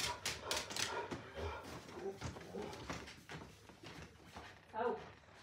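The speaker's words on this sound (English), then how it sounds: "Excuse the dog." A dog barks a few times in a room, muffled and moderately close, mixed in with a person talking throughout and some shuffling household noises.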